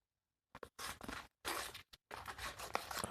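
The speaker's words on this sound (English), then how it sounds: "let's cut a straight bit here" Close, quiet snips of scissors cutting through wide washi tape, several short crisp cuts in quick succession separated by brief silences, with no talking.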